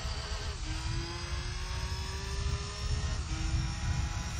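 A racing car engine in Gran Turismo 3 A-Spec drones loudly and steadily, its pitch climbing through gear changes with two brief dips as it shifts, alone without voices.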